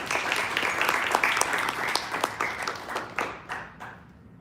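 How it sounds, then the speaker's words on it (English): A roomful of people at a community health event clap together in sustained applause, dense and even at first, then thinning into scattered claps that fade out toward the end. "So I wanted to give a huge round of applause again to them for that."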